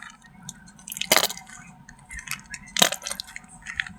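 Thick curd being scooped from a container for raita gives soft wet squelches and drips, with two sharper clinks of a spoon against the vessel. The sounds are close and fairly quiet, with no talk.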